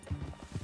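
Horse hooves clip-clop on the ground in Red Dead Redemption 2, a short burst of a few heavy, muffled footfalls close by, rhythmic and uneven.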